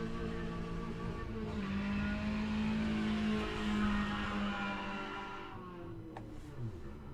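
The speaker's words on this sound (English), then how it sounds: "Someone ruining their car. That's what it sounds like." A car engine revs somewhere outside, a moderately faint, steady droning whine that rises and holds for several seconds before fading, with a brief squeal-like sweep near the end.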